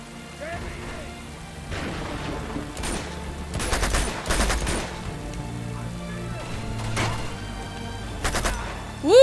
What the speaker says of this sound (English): that was nice shooting